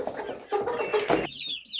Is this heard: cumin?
no